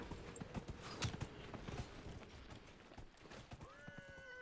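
Horse hooves clip-clopping with a whinny in the fantasy video game Dragon Age Inquisition, the hoofbeats steady amid busy game sounds and a neigh rising near the end.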